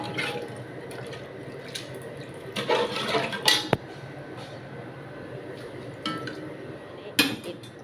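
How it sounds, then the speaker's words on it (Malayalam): Water poured into a cooking pot while sweet payasam is being made: a steady, close pouring hiss runs throughout, with a few clinks of metal utensils against the pot and no speech. "ഒരു ലിറ്റർ വെള്ളം ഒഴിച്ച് കൊടുക്കുന്നുണ്ട് കേട്ടോ."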